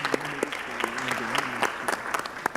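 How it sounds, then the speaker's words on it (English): Audience at a school board meeting applauds an orchestra's award: dense, fairly loud clapping from many hands with sharper individual claps standing out, while a voice talks underneath. "we can applaud for that."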